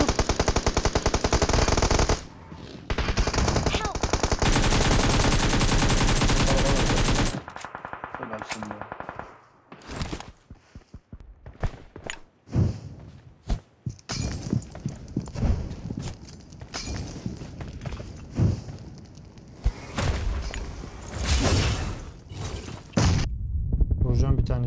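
Rapid automatic gunfire from a battle royale duo squads match, loud dense bursts in the opening seconds followed by scattered shots and footsteps, with players talking over the action.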